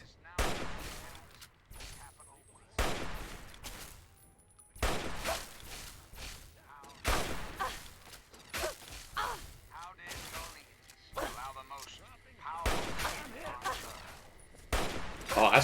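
Repeated bursts of heavy gunfire and rapid automatic shots ring out in the video game Fallout 3, in irregular volleys across the whole stretch with mechanical clicks between them.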